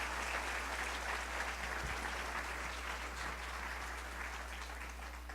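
A church congregation gives sustained applause for a visiting musical group, a dense, even wash of clapping that continues for over five seconds, heard from a distance over a low electrical hum.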